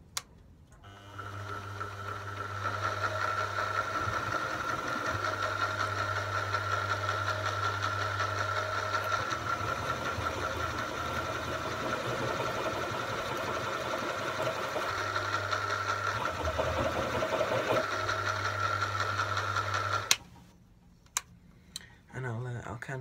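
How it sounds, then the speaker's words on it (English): A milling machine turns slowly in its lowest speed as it cuts across the wide jaw surface of a Record workshop vise, giving a steady mechanical hum with a rhythmic ticking. The sound cuts out briefly twice and stops near the end. "I'll run the mill quite slow."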